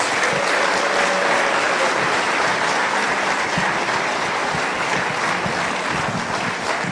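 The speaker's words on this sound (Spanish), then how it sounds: "Le recibimos con fuertes aplausos." Loud, sustained applause from a large congregation at a Spanish-language joint church service in Santa Cruz, welcoming a visiting pastor; dense, steady clapping fills the whole stretch without talk.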